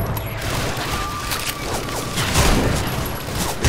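Gunfire in Left 4 Dead 2 aimed at a clown zombie, a dense, continuous burst of rapid shots with a steady loud rattle throughout, mixed with game background noise.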